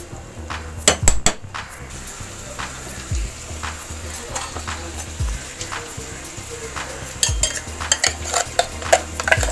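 A tempering for sprouted moong curry, Konkani style, sizzling in a pan: steady frying crackle with repeated metallic knocks and scrapes of a spoon against the pan, close up and without talking.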